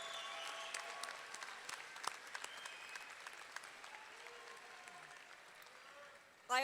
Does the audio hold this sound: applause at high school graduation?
yes